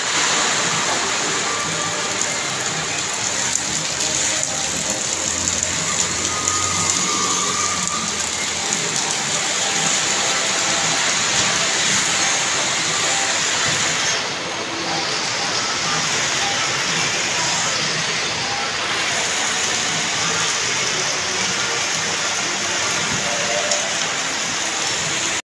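Heavy rain pours steadily and densely outdoors, a loud, continuous rushing hiss of drops with no pauses, and a brief soft dip partway through.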